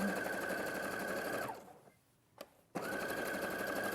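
A sewing machine running an overcasting stitch along a seam, a steady close mechanical whir that stops abruptly mid-way, leaving a short near-silent gap with one small click, then starts up again at full speed.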